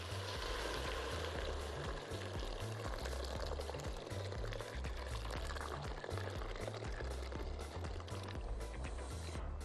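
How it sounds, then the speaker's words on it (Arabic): Boiling water pours steadily into a pot of corn soup with spices over a constant hissing, bubbling background, continuous and fairly loud throughout. "شويه من البهارات وننزل بالميه المغليه."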